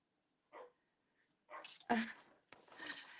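A dog gives a few sharp, close barks in short bursts separated by brief pauses.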